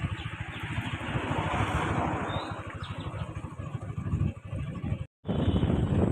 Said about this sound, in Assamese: এনেকুৱা ধুনীয়া বতাহ মাৰি থাকে নহয়